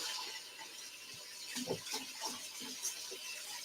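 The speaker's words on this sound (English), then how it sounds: "So I'm just going to give the old hands a wash." Hands are washed in hot soapy water at a kitchen sink, with steady running water and soft splashing and rubbing that swells and fades, fairly quiet and close.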